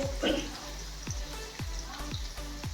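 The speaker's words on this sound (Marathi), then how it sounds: "मग कांदा ट्रान्सपरंट होईपर्यंत चांगला परतून घेऊ" Chopped onion sautéing in a pan until translucent: a soft, steady sizzle with a regular series of spatula scrapes and taps against the pan, quiet and close.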